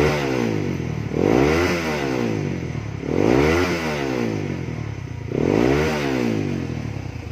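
A Honda CB150R motorcycle fitted with a hollowed-out Ninja 250R exhaust revs up and drops back three times in a steady rhythm. The loud engine note comes from close by, and no one talks.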